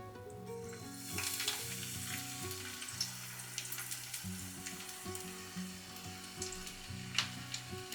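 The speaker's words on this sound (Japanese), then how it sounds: "こうやってお箸で多めにつまめるぐらいを1個分にして揚げていこうと思います" Kakiage vegetable tempura deep-frying in hot oil, giving a dense, continuous sizzle and crackle with small popping bursts, close and steady throughout, with faint clicks of chopsticks.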